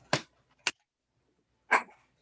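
A small puppy lets out three short, sharp barks in a quiet room, two close together and a third after a pause, with silence between them.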